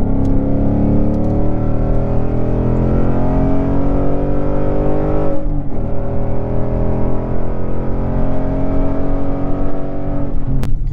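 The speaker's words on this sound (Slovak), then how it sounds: "je to naozaj ten klasický Ford Mustang zvuk" A Ford Mustang 5.0 V8 roars while driving, loud and close, its deep engine note climbing steadily, pausing briefly at a gear change, then building again without voices.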